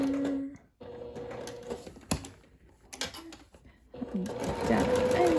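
A home sewing machine stitches down and across a seam on fabric for reversible Lilly-style shorts, whirring in several short bursts with brief pauses between runs, close by, with a voice talking over parts of it.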